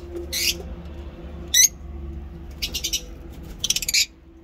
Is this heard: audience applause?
no